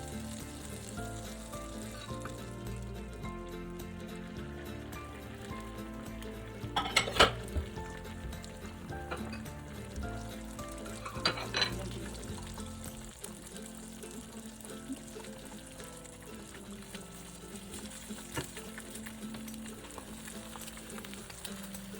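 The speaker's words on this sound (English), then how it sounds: "I'm just working the edges of the egg as it crisps up, move it around" An egg fries in a non-stick pan while a utensil works at its crisping edges, with a steady sizzle running throughout and a few brief clinks and scrapes of the pan near the middle.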